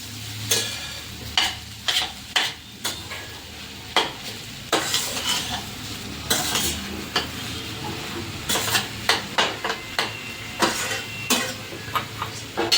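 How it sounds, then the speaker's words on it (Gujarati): A spoon stirs soaked sago pearls into dry potato curry for fasting khichdi, scraping the pan in a steady run of sharp, close strikes over a soft sizzle, with no voices. "મિક્સ કરી દઈશ સાબુદાણા અને સૂકી ભાજી"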